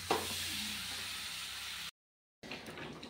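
Water poured into a pan of sautéed potatoes brings up a steady hissing sizzle that runs loud for a couple of seconds, cuts out abruptly, then resumes more quietly.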